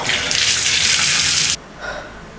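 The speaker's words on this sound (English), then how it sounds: "That cold shower hit the spot." Cold shower water running steadily as a loud broadband hiss for about a second and a half, then cutting off abruptly, followed by a few faint drips and splashes.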